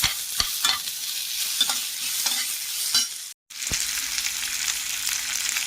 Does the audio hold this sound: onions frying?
yes